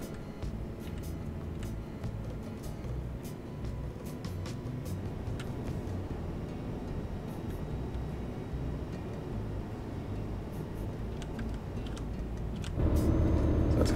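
A truck in Euro Truck Simulator 2 rumbles steadily on the road, a low continuous engine drone that swells louder and deeper near the end as it accelerates, with no talk over it.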